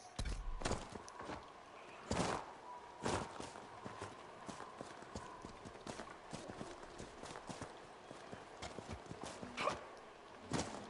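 A horse's hooves clip-clop in Dragon Age: Inquisition, a run of irregular, fairly close hoofbeats with a few louder strikes standing out.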